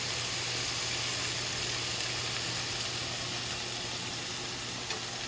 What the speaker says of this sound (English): we want to brown this side of this fish. And we're going to cook it for about 3 minutes